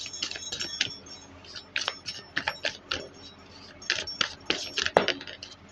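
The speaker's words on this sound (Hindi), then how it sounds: "एक बार और शफल करते हैं" Tarot cards being shuffled by hand during a reading, close and fairly quiet, heard as uneven bursts of crisp riffling clicks with short pauses between them and no talking.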